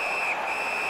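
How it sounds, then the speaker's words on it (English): A referee's whistle in the hockey video game NHL 19 blows one long, loud, shrill note that lasts the whole second over faint arena crowd noise. "And freezes play for the whistle."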